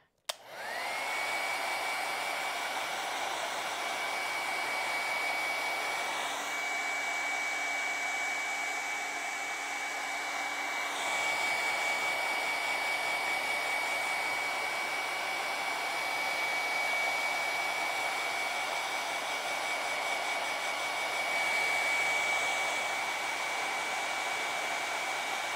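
A hair dryer blows steadily on an acrylic painting of a palm tree sunset beach, a loud continuous whir with slight shifts in pitch as it moves, starting with a click and running alone for about 25 seconds.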